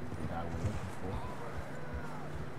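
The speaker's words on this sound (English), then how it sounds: "So that was John's horse." Horse hooves in the video game Red Dead Redemption 2 sound as soft rhythmic clip-clops against a rumbling outdoor backdrop, with voices talking over them.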